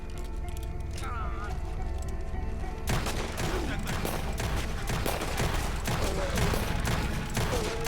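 Rapid gunfire aimed at an alligator in Red Dead Redemption 2, a dense stream of close shots that grows busier after the first few seconds, under excited shouting voices.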